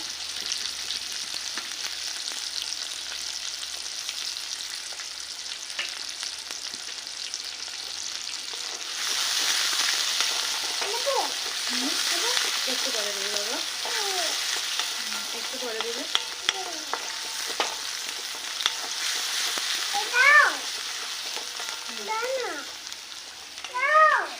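Mourola fish frying with green chili, cumin and onion in a pan, a steady sizzle throughout with a louder hiss midway; a voice talks over the second half.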